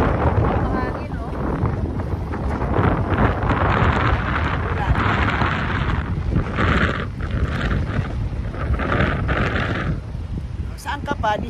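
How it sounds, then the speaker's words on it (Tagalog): Desert wind in Kuwait buffets the microphone in a loud, continuous rumbling rush, with voices talking through it. "hangin, oh."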